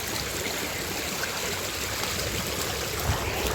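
Water flowing steadily through a cut in an earthen embankment, a continuous close rushing and trickling stream with no talk.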